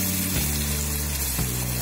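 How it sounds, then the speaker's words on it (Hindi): Garlic chutney base with crushed ginger and coriander powder frying in a pan over low heat, a steady close sizzle that stays even throughout with no talking. "अच्छी तरह से इसको एक मिनट फ्राई करेंगे।"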